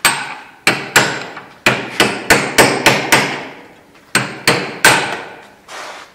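A heavy two-kilo hammer striking a part of a New Holland TX 66 combine harvester, a series of loud, sharp metallic blows in irregular bursts with short ringing decays, alone without talk.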